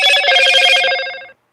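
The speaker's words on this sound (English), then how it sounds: "This phone is getting on my nerves." A telephone rings loudly and close, a bright trilling electronic burst lasting over a second before cutting off abruptly into silence.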